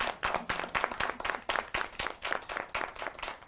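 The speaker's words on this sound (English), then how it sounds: "Please, a round of applause for my people here." Enthusiastic applause from a community gathering, with steady rhythmic clapping throughout, fairly close and consistent, with no speech over it.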